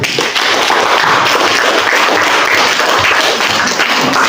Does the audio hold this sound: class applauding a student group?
yes